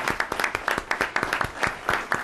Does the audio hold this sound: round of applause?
yes